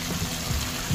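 Vinegar pours into a cooking pot with a steady, close liquid splashing and gurgling that swells a little at the end.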